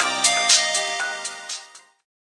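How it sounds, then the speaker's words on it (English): A phone ringtone plays alone: a short electronic melody of bright, distinct notes that ends after about two seconds, leaving silence. "She's choosing a new ringtone."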